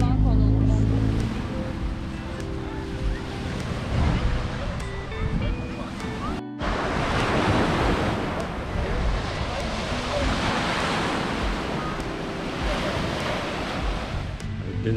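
Sea waves at Alaçatı beach wash in with a continuous surf roar and wind buffeting the microphone, loud and close, while people talk at times over the water.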